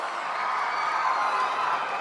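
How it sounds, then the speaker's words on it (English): Audience applause at a foundation-stone ceremony in Amaravati, a steady even wash of clapping from a large crowd, moderately loud and unbroken. "A huge round of applause."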